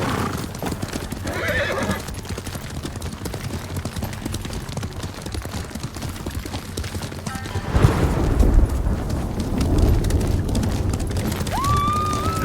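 Horse hooves galloping along a road in Ghost of Tsushima, a steady rapid clip-clop close by that slows near the end with a horse's whinny, with music underneath.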